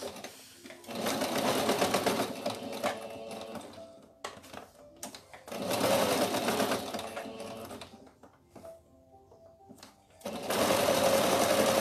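A sewing machine stitches the brim of a cloth doll's hat, running in three close, steady bursts separated by short pauses.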